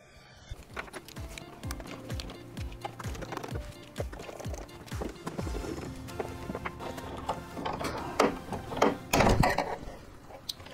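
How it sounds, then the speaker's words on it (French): Plastic clips snap and crack as the back panel of a CR 200B machine is pried open, a run of irregular close clicks, knocks and creaks that grows louder and busier toward the end. "Les clips sont assez chiants à enlever, il y en a un peu partout"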